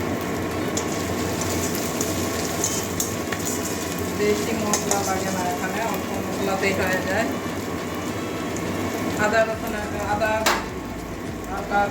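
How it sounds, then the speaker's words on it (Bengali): Ginger and green chili frying in a pan for a Bengali dudh potol dish, a steady close sizzle with occasional stirring scrapes and clinks throughout. "আদা কাঁচা লঙ্কাটা একটু কাঁচা গন্ধ যাওয়া পর্যন্ত বেড়ে নেবো"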